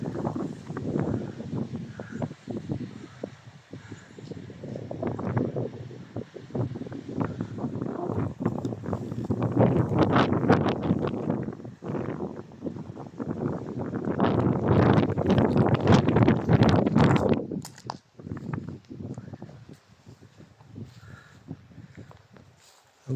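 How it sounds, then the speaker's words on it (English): Gusty wind buffeting the microphone in a churchyard at Nether Stowey, Somerset, rising and falling in strong rumbling bursts with quieter lulls between. "it's pretty windy. It just spoils the sound quality."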